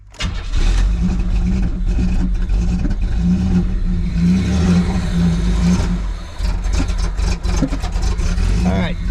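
A car engine cranks, catches and runs unevenly for several seconds, rough and rumbling with surging revs, during a body-swap project. Voices talk over the engine noise.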